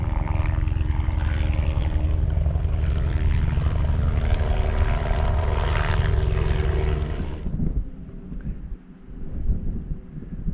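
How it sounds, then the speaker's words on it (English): Helicopter flying over a hillside path on Beinn Ghlas, Ben Lawers, ferrying rocks for path repairs: a loud, steady rotor and engine roar that fades away abruptly, leaving wind noise. "I'll have the helicopter for company as he's flying in rocks for pathworks up and down"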